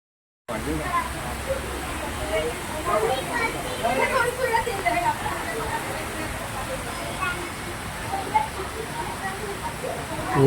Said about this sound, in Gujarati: બહુ જોરદાર વરસાદ છે.